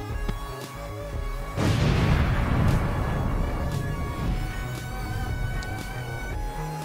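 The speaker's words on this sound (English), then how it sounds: "It actually comes with its own explosion sound effect on." An explosion sound effect from a green screen clip bursts in with a deep, rumbling boom that swells quickly and then slowly decays into a long, low roar, with no talk over it.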